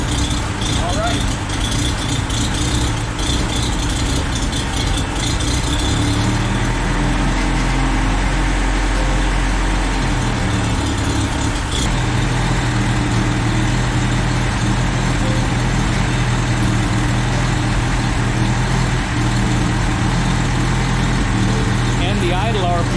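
A car engine idles unevenly after a distributor swap, a steady low rumble with a rattle that holds for the whole stretch, close by. A shift in pitch comes partway through, and people talk over it.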